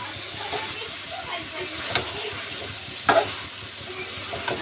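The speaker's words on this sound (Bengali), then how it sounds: "এখন আলু আর কলিজা দিয়ে কষিয়ে নিচ্ছি" Liver and potatoes with spices being sautéed in a pan, giving a steady close frying hiss and sizzle with soft stirring and a couple of sharp clinks of a utensil.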